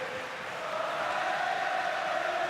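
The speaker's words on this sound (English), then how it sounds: "Gotta love the Irish crowd." Sustained roar from an Irish crowd packed into a Bellator MMA arena, a steady loud wash of cheering that builds slightly and holds without a break.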